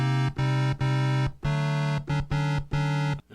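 Omnichord chords strummed manually with auto mode off: six sustained harmonic chord blocks, each held roughly half a second with brief gaps, bright electronic tones with a strong low root, played alone and clearly up close.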